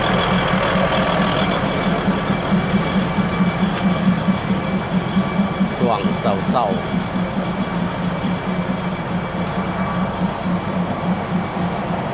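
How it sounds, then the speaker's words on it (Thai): A passenger train running from Mahachai to Wongwian Yai in Bangkok rumbles along steadily with a constant low drone and rhythmic clatter, heard from inside the moving carriage, with brief chatter partway through. "รถไฟขบวนนี่ก็วิ่งจากมหาชัยจะไปวงเวียนใหญ่"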